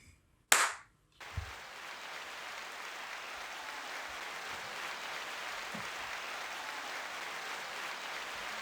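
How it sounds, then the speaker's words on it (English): A single sharp hand clap rings out alone near the start as a podcast recording begins, followed by a softer thump and then steady low room hiss. "give us that clap"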